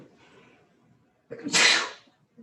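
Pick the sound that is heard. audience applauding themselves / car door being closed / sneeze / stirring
sneeze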